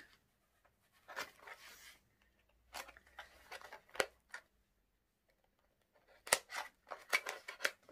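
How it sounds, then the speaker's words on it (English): Sellotape is peeled and pulled off a mailed package in short crackling, ripping bursts separated by quiet pauses, close and fairly soft, with no talking. "undoing the sellotape"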